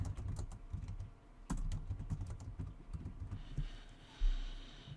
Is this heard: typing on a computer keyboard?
yes